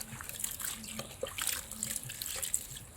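Wolffia plant grains are rinsed in water, giving a soft, faint trickle and splash with small drips, close by and with no speech.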